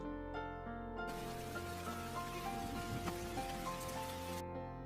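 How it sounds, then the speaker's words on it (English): A heavy downpour hisses steadily and densely in an animated film, with rain drumming on surfaces under a sustained musical background. "with the sound of downpour."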